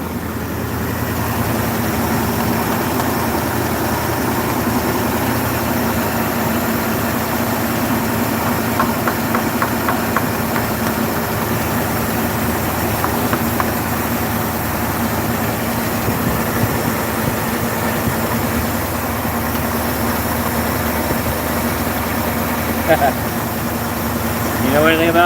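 A Ford Galaxie engine idles high, its carburetor float apparently stuck, as a steady, close mechanical drone with a faint knock and vibration running throughout, and occasional muffled voices nearby.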